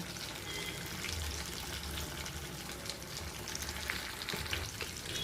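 Fish coated in homemade masala fries in a pan, giving a steady close crackling sizzle with occasional stirring and scraping sounds and no talk.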